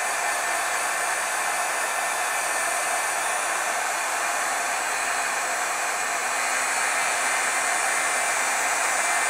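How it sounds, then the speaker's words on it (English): A heat tool blowing hot air steadily to heat-set white pigment ink on a stamped paper scene, a constant loud even whoosh throughout with no breaks and no voices. "I'll heat set the white a little bit too."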